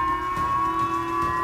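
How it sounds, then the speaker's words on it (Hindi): An air raid warning siren sounds in Japan after a North Korean missile launch, a steady sustained wail holding a constant pitch throughout, moderately loud and continuous, with no voices. "इस बार किम के मिसाइल फायर करते ही खतरे का सायरन जापान में बजा"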